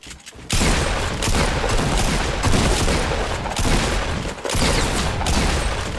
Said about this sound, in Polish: Coś jeszcze do mnie strzela.